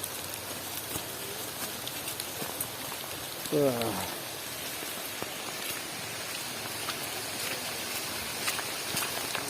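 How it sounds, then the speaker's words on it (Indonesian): Light drizzle falls during a trek through wet forest in Suwoh, a soft steady patter close by, with a brief voiced exclamation midway. "Hujan rintik-rintik."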